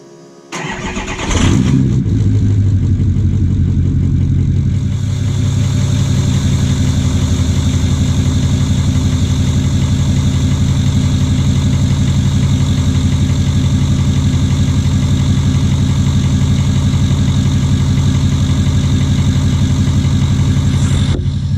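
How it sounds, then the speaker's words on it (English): A 6.0 Powerstroke diesel truck engine cranks and catches from a lukewarm start, then settles into a loud, steady, rumbling idle that runs unchanged, close by, with no talk. "as the truck is warming up"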